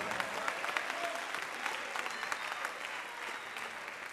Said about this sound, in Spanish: Dale fuerte esas palmas al Señor en esta hora.